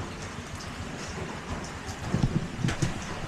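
Steady, continuous light rain with a soft broadband wash and scattered droplet taps, a few low thumps near the end; no voices.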